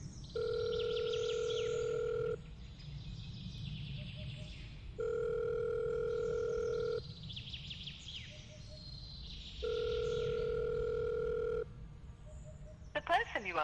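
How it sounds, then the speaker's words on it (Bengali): A telephone ringback tone repeats for an unanswered call in a dramatized horror story, three long steady rings separated by pauses, fairly quiet over a faint background hum, ending in a brief burst of noise. "কাপা হাতে সে ফোন তুলে প্রতীককে কল"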